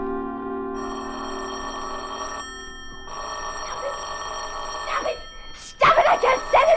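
A telephone bell rings insistently as a radio drama sound effect in a suspense play, a steady bright metallic trill that pauses briefly and resumes, then gives way to a woman's loud, agitated voice near the end.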